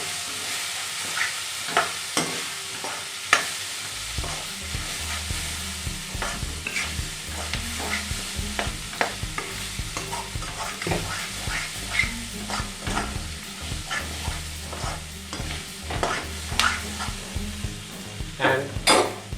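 Peanut fried rice being stirred in a hot pan after salt is added, a steady sizzle with repeated scraping and stirring strokes throughout, close and alone.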